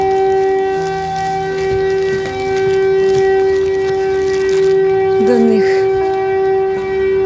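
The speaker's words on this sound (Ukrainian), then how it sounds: "На сирену вже ніхто не звертає увагу, вже настільки всі звикли." A civil defense air raid siren wails loudly and continuously in a city park, holding a steady tone with slight rises and falls and no talking.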